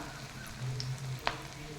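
Kofta balls sizzle in hot oil on a low flame, a steady close frying hiss broken by one sharp click of a utensil against the pan.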